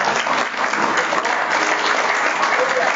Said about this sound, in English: Let's put our hands together and give God a great clap of praise.